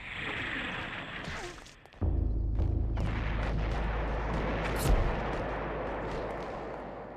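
Gunfire in Eternal Darkness: Sanity's Requiem on the GameCube, heard as a sudden loud booming shot that sets off a sustained low rumble, with a second sharp crack a few seconds later, no talking.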